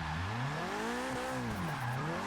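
A Nissan 240SX in Forza Motorsport 6 drifts through a sharp curve, its tires squealing loudly in long, wavering pitch sweeps over the continuous roar of the engine.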